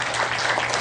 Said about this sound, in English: Give me a nice round of applause, folks